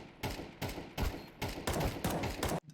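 Sprayed gunfire from the video game CS2 at the Inferno map, a string of short rapid bursts with brief gaps between them, fairly close and punchy, ending abruptly.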